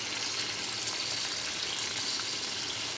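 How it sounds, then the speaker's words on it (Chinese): Chicken wings searing in a pan with garlic fried in oil and oyster sauce, producing a dense, steady close sizzle and crackle without pauses. "下鸡翅稍微煎一下表面"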